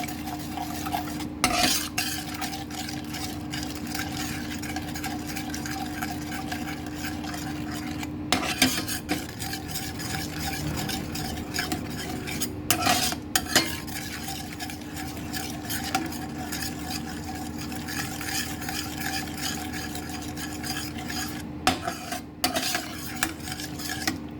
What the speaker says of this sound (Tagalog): And then mix.